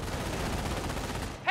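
Heavy machine gun firing in Company of Heroes, a faint, steady rattle of rapid shots running under the game's background noise for over a second, with a sharper sound breaking in at the end.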